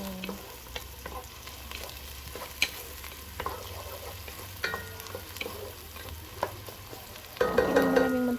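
Garlic frying in olive oil for mushroom spaghetti, with a steady low sizzle and scattered stirring clicks and scrapes throughout, swelling into a louder burst of frying near the end.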